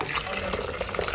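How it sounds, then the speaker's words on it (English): Cold tap water runs into a gallon pitcher, a steady splashing, gurgling pour that stays moderately close throughout the brief moment. "Once you pour in the tea, you take cold water and you fill up the rest of the gallon with water."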